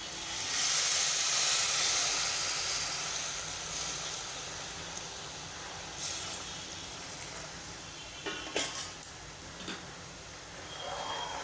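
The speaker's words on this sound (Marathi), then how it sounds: "आणि उकळलेलं पाणी घालूया। गॅस मोठा करते।" Boiled water poured into a pot of green moong dal khichdi with peanuts over a high gas flame gives a steady, loud hissing rush that eases off, followed by faint clinks and bubbling.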